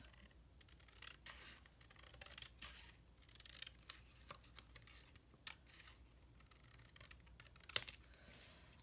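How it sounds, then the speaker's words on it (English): Snips of scissors trimming paper for a craft project come as a string of quiet, close cuts with light rustling between them, one sharper click near the end; no voice. "I'm gonna trim this down on this side for sure"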